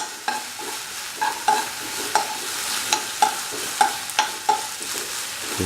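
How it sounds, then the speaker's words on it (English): Ginger stew ingredients being crushed with water and salt, giving a steady wet hiss and a run of regular knocking, grinding strokes close by, with no talking. "Put in 15 ml of water and salt and crush the ingredients"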